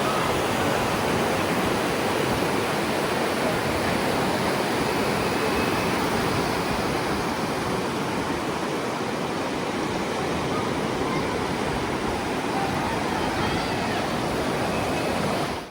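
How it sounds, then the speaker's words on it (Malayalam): Hot spring water rushes at Manikaran Sahib, a loud, unbroken hiss and roar of flowing water holding steady throughout with no talking. "ഈ വെള്ളത്തിന്റെ സൗണ്ടും ആസ്വദിച്ച്"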